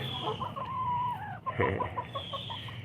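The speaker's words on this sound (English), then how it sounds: "Here's all the chickens." Backyard chickens cluck close by in a steady run of short calls, one drawn-out squawk rising above the flock before a louder burst of clucking.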